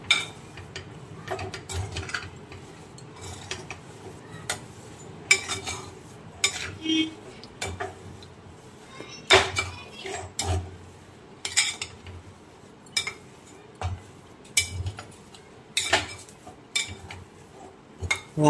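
Rice flour laddu mixture with almonds, pistachios and charoli being stirred in a metal pan, giving irregular scraping and clinking strokes of a spoon against the pan, close by, with no talking.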